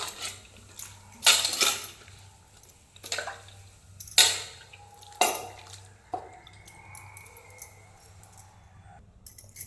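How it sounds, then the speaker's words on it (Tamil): Soaked bitter gourd pieces rinsed in water in a kitchen, with several sharp clattering splashes and knocks against a vessel amid quieter dripping and sloshing, close by with no talk. "10 நிமிஷம் ஊற வச்சதுக்கப்புறம் நல்ல தண்ணியில் போட்டு நல்லா அலசிக்கணும்."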